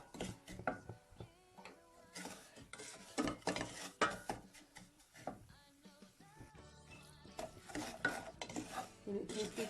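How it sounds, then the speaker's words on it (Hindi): Semolina roasts in cooking oil for suji halwa while being stirred continuously, producing busy scraping, rattling and clinking of a spoon against the pot, fairly quiet and without talk. "इसको इतना अच्छा भूनना है कि ऑयल जो है वो इस तरह साइडों पे आ चुका है"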